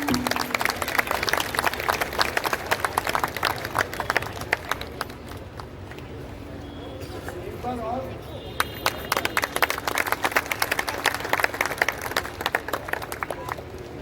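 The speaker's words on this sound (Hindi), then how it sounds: "आइए तालियों से इसका स्वागत करें।" Audience clapping welcoming the launch of a Holi song presentation at a university dance and music event, brisk scattered claps continuing throughout with a short softer lull midway, crowd murmur and a voice mixed in.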